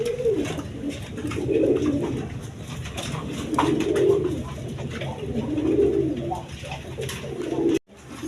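A pair of red Danish pigeons cooing, several rolling coos in a slow repeating rhythm close by, with someone talking quietly underneath.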